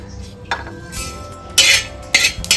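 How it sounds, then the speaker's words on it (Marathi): Cumin, coriander and fennel seeds dry roasting in a pan, heard as a few short scraping and clinking bursts as they are stirred over a low background hum. "आता आपण जिरं भाजून घेऊ जिरे आणि धणे हे भाजून घेतल्यामुळे खूप छान खमंग वास येतो"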